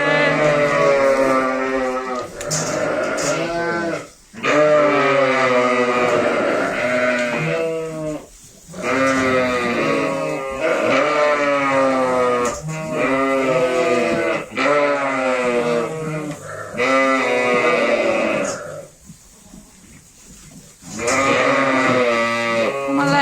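A herd of goats on a ranch bleats loudly and repeatedly, overlapping cries from several animals close by, with only short pauses between bursts.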